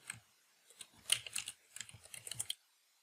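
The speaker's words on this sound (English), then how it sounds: "Just type in the name." Short bursts of key taps on a computer keyboard, typing a name into engineering software, fairly close and moderately quiet, in an irregular run of clicks over about two and a half seconds.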